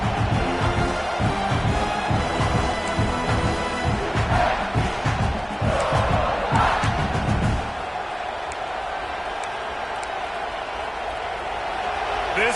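Stadium crowd noise in the College Football 26 video game during a South Carolina vs Ole Miss matchup, a loud continuous roar with swells, heard under a commentator's voice.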